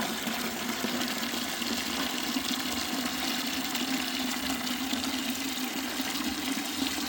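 Well water pouring steadily into a 5-gallon bucket, a loud, constant rushing splash with no pauses, heard close and alone without talk.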